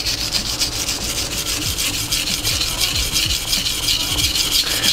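A Nishida Kurouchi petty knife is rubbed back and forth on a sharpening stone, giving a close, continuous gritty scraping with a rapid, even stroke rhythm and no talk.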